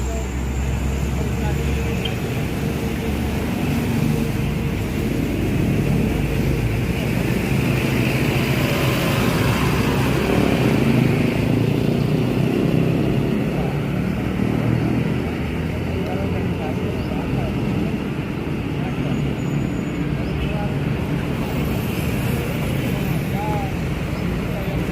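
Sembodo Suites Combi bus pulling into a terminal in the morning, a steady loud engine rumble with surrounding crowd and station noise and people talking throughout.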